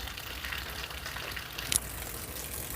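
Heavy rain pouring down in a backyard, a steady close hiss of downpour throughout with a brief sharper splash near the end, no talking.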